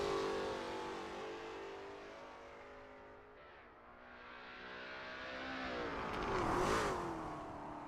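Lola T70 MkII Spyder race cars at Sebring International Raceway, engines droning and revving with rising and falling pitch, one car swelling louder as it passes close by near the end.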